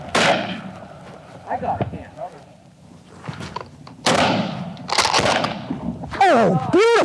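A gunshot cracks out during a waterfowl hunt in North Dakota, one sharp burst set among excited shouting voices and outdoor noise.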